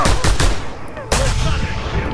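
Sniper rifle fire in the video game Just Cause 2 cracks out as a few sharp, loud shots in quick succession, then one more heavy blast followed by a ringing decay.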